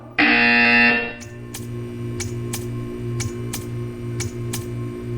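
A loud electronic buzzer blares for about a second in Portal 2, followed by a steady low hum with a series of sharp, evenly spaced ticks.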